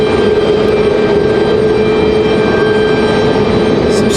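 American Airlines jet close by at Raleigh-Durham International Airport, its engines a loud, steady roar with a sustained whine, unbroken and alone for the whole stretch.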